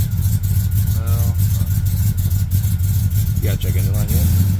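A truck engine fitted with an aftermarket cam idles and runs nearby, a loud, steady, lumpy low rumble that continues throughout, while people talk over it.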